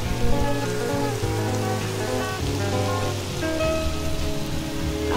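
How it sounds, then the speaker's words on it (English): Steady rain falls in Minecraft, a constant even hiss of drops that carries on without a break under a soft layer of tonal game music. "It's raining, like, over there."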